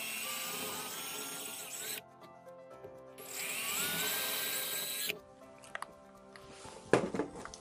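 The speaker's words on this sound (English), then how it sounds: "I'll start by drilling small pilot holes for the wall anchors." A power drill bores small pilot holes into a wall for anchors, whining in two close, steady bursts with brief pauses, then some lighter scraping and knocking as the bit is handled.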